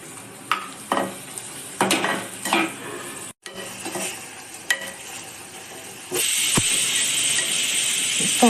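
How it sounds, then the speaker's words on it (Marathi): Bitter gourd (karela) frying in a pan with ginger-garlic paste, a steady sizzle broken by clinks and scrapes of a stirring spoon against the pan. "आता यामध्ये मी लगेच कारले टाकून देते. त्याला 5-7 मिनिटाचं मी शिजू देणार आहे."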